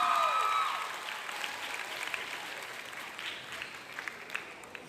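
Audience clapping and cheering at a Somali heritage event, with a sustained, fairly distant wash of applause that fades slightly after a louder opening, with no voices rising above it.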